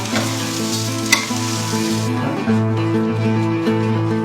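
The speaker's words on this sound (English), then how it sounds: "So stir-frying raw rice, basically." Steady sizzling and scraping of raw rice grains being stir-fried in a hot wok, continuous and close, with faint background music underneath.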